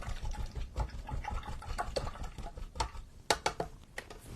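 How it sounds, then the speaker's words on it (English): A paintbrush swished and rinsed in a container of water, giving irregular splashy sloshes and a few sharper splashes near the end, close and fairly quiet, with no talk. "Let me wash that brush out."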